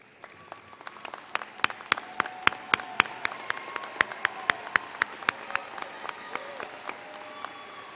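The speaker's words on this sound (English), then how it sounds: "the group here will recognize them with lots of applause" An audience at the 2011 Metro Tech graduation ceremony applauds graduates as they stand, a loud crowd of clapping with distinct sharp claps cutting through the steady roar.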